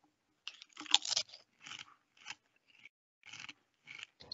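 Close, crisp crunching of Kettle brand peppercini flavor potato chips being chewed, several sharp bursts of bites and munching separated by brief pauses, loud and near with no talking.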